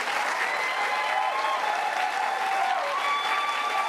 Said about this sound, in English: This is as everybody stands up and applauds